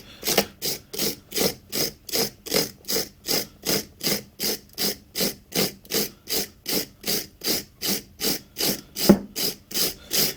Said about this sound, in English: If you haven't got a wire brush, sandpaper will also work.